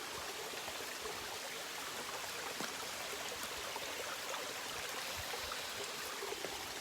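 A river swollen after heavy rains flows steadily, a continuous broad rushing and trickling wash with no pauses, close and even in level throughout.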